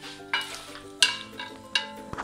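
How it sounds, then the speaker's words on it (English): Chopped onions sizzle and crackle in hot oil in a pan for a vegan curry, with bursts of stirring and scraping every half second or so, close and fairly soft. "We're going to leave these to sizzle away in this hot oil."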